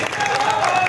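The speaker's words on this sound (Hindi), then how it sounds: "बजाओ ताली" Brief burst of clapping from a crowd at a teachers' gathering in Saharanpur, steady and fairly loud, with a voice talking over the top.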